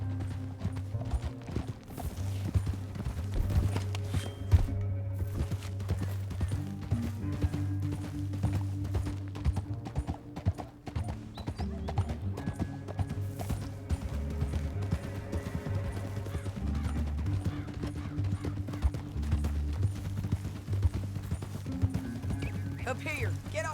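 Horse hooves clip-clop steadily through a canyon in the Western game Red Dead Redemption 2, sitting under a constant music bed and in-game dialogue, with an occasional whinny.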